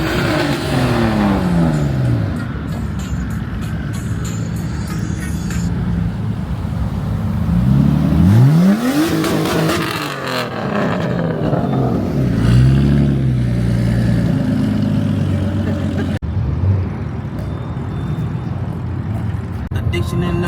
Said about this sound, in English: Look at the C7, little drift car.